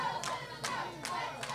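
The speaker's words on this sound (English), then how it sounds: "You hear those cheers, those whistles, those claps." A wrestling crowd at an independent wrestling show claps in rhythm, with four slow, evenly spaced claps that sound faint and distant.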